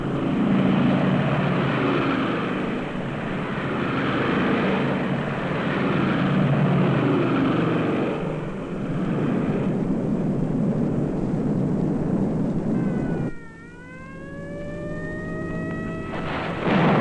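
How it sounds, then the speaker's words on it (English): British heavy bombers flying to Peenemünde in 1943, a loud, steady, droning roar of massed propeller aircraft engines that carries on throughout, with a sudden change near the end to a sweeping engine whine. "300 British heavy bombers took to the air"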